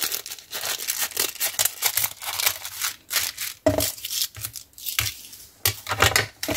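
Scissors cut through paper material for a junk journal, giving a close, irregular series of snips and crinkles with no talk.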